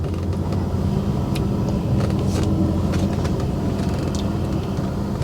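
A 1995 Bentley's engine rumbles steadily from inside the car as it drives, with road noise and occasional light clicks and rattles.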